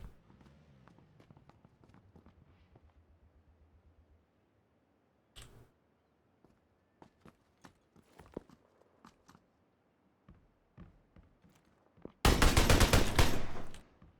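Gunfire in PlayerUnknown's Battlegrounds: scattered sharp shots and bursts spaced across quiet gaps, with footsteps between, ending in a loud sustained blast of rapid fire.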